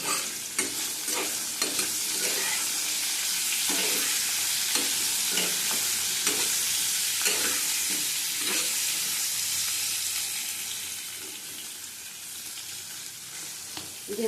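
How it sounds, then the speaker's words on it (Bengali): Aubergine and fish fry in a pan with a steady loud sizzle, broken by regular scraping strokes of a spatula stirring throughout, close and without talk. "ভালো করে আবার ভেজে নেব"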